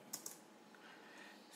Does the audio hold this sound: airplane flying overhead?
no